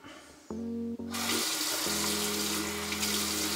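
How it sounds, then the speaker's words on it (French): Tap water runs steadily into a shaving bowl, beginning after a couple of faint knocks and settling into a continuous, close, moderately loud rushing flow with a slight tonal hum from the faucet. No one speaks. "Je vais rajouter de l'eau,"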